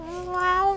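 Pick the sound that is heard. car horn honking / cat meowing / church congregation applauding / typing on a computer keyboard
cat meowing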